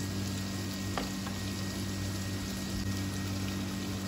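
Peppers frying in a pan while being stirred, a steady close sizzle with a faint scrape near the one-second mark.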